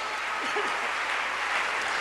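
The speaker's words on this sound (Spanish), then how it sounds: "Démosle un aplauso fuerte al Señor." A church congregation claps loudly for the Lord during a Spanish-language Sunday service, a dense, even roar of hands filling the room, with a brief voice surfacing faintly near the start.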